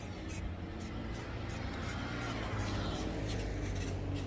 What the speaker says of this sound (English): take some anti-rust spray, whatever you have, whatever you want to find, and spray